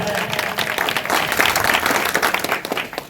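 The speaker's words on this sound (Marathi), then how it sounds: "अतिशय सुंदर सादरीकरण या दोन्ही कलाकारांसाठी जोरदार टाळ्या" Applause for two fugdi dancers at a village fugdi group competition in Kudal, a dense, steady burst of crowd clapping from many hands, loud and sustained for a few seconds with a faint voice underneath.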